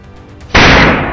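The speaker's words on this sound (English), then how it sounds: "I raised my rifle locked in, and with one clean, decisive shot, granted it a final release." A single sharp, very loud rifle shot fired at a wounded wild boar in snowy mountains, cutting in abruptly after low background noise and leaving a sustained echoing tail.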